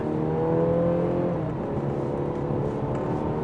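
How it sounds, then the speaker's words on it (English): A sports sedan accelerating hard from a standstill in sport mode after a brake-boosted launch, its engine a steady loud drone that rises slightly in pitch, up close and with no talking. "We are in sport mode, and let's do a quick launch"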